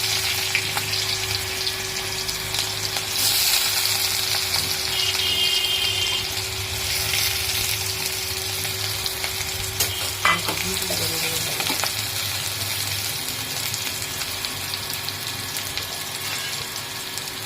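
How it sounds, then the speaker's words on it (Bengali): Onions fry and sizzle in a pan for a dried fish curry, a steady hiss close by with occasional stirring scrapes and clinks, and no talk. "পেঁয়াজটা একটু কষা বসাবো"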